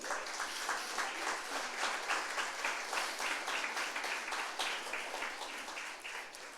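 A church congregation claps along during a Sunday service, a steady broadband patter of many hands held at an even, moderate level for several seconds without a break.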